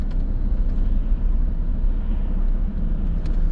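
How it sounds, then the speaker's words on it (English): Several cars approaching along a narrow green lane near Ripponden, heard from inside a Skoda Yeti as a steady low engine and road rumble that holds through the whole stretch with no talk. "There's quite a few cars coming up."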